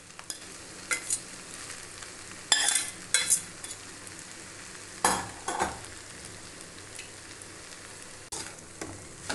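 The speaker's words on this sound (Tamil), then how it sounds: "இப்போ எல்லாத்தையும் நல்லா மிக்ஸ் பண்ணிக்கலாம்." A spoon stirs kodo millet vegetable pulao in a hot pan, bursts of scraping and sizzling come in irregular strokes over a quiet frying hiss, close and fairly soft, without talking.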